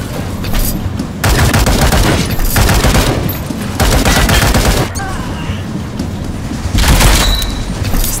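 Bursts of loud automatic gunfire in the video game World War Heroes, long sustained volleys separated by brief pauses, close and dense.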